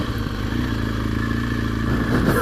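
A BMW R1200GS motorcycle rides on sand with a close, steady engine thrum and some clattering, and it rises slightly at the end.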